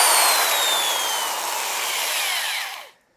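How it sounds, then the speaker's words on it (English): A high-RPM corded power drill whines steadily while polishing the slide of a Smith & Wesson M&P 40 Shield pistol, loud and close, with its pitch gradually dropping before it cuts off abruptly. "now I used this power drill"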